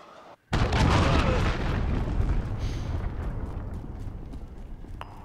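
Cruise missile explosions in Call of Duty Modern Warfare 2019, one sudden loud blast followed by a long rumbling roar that slowly fades, with faint clinks near the end.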